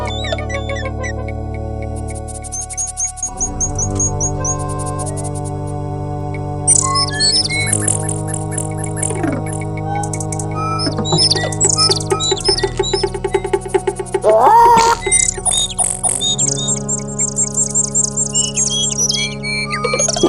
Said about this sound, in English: What a smart-looking bird.